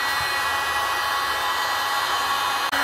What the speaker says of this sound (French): on va utiliser un décapeur thermique qui va nous chauffer la colle et nous la ramollir